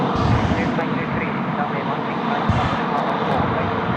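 An airliner engine roars at Tokyo Haneda airport, a loud, steady, broadband rumble that fills the whole stretch, heard from the airport perimeter.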